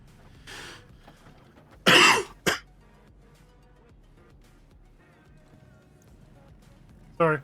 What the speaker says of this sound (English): Sorry, I'm trying not to cough on you.